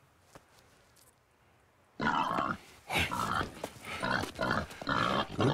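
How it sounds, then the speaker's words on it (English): A hog in Red Dead Redemption 2 lets out a run of loud, close grunts and squeals after two seconds of quiet, the rough bursts coming in an uneven rhythm. "Pig."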